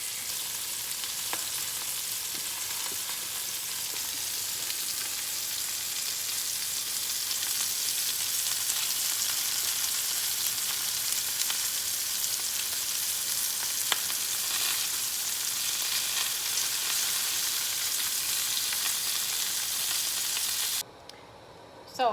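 Pork chops fry in a skillet of olive oil and ghee, giving a steady, dense sizzle that goes on without a break for about twenty seconds and then cuts off near the end.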